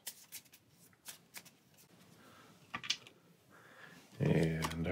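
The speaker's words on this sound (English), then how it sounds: "Shuffle these into our deck." Playing cards for the Pathfinder Adventure Card Game being shuffled into a deck, several quick soft riffling bursts, faint and close, before a louder noise at the end.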